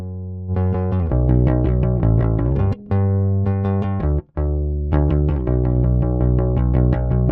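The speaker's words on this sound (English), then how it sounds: "going to play an FX only so you can hear exactly what it does" Gritty, saturated bass guitar plays alone in short phrases, thick and buzzing with harmonics, with a couple of brief gaps between notes.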